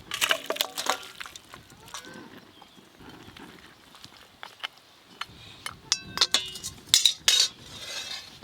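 Cooked bhetki fish-bone and taro curry poured out of a cooking pot: sharp metallic clinks and scrapes of utensil against pot come in bursts, with soft sloshing of the thick gravy between them.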